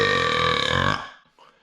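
One long, loud, deep burp from a person close by, ending abruptly with a faint trailing sound afterward.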